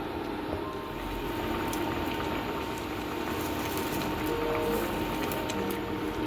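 Ghugni cooked with pumpkin greens simmers in a pot, giving a steady, low bubbling patter that stays even and close throughout with no voices.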